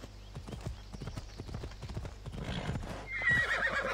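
A horse in Assassin's Creed Odyssey gallops with a steady, rapid clip-clop of hooves, then gives a loud whinny near the end, heard close over a faint game background.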